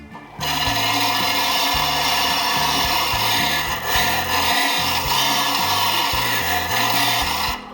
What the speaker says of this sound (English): Tighten it up, turn the unit on and start sliding it backwards and forwards.